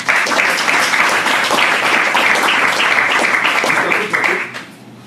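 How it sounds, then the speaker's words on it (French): A live audience bursts into sustained, dense applause, loud and steady for about four seconds before tapering off, with a few voices mixed into the clapping. "Un tonnerre d'applaudissements."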